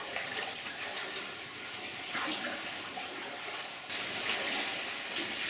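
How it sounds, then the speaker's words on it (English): Water drains steadily through an opening in a flooded underground mine, a continuous close rushing and gurgling flow that swells slightly partway through, with no talk. "the water is draining through this opening on the right side and headed out towards the portal"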